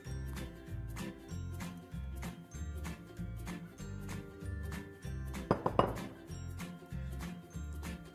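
Tahini bean salad (piyaz) being spooned onto a plate, with repeated soft clinks and scrapes of serving utensils against dishes under steady background music, plus a brief louder clatter near the middle.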